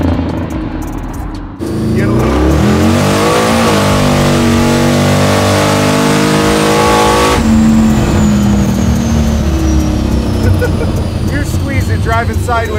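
A 1200 hp Volvo accelerates hard with its tires spinning. The engine roars up loud and close through rising, revving pulls, and voices are heard at the start and end.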